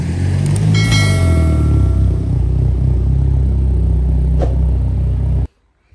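A VW Golf 5 GTI rolls into a workshop hall, its engine a steady close rumble with some clatter and a brief clank, continuing for several seconds before cutting off abruptly.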